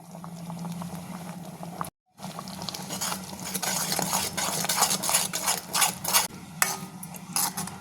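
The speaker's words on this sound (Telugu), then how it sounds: "చూడండి ఈ మసాలా గ్రేవీ బాగా ఉడుకుతా ఉంది కదా" Soya chunk masala gravy with green chilli, red chilli powder and coriander powder bubbles in a pan, a close, steady boiling burble with spoon stirs and clinks, broken by a brief silent gap near the start.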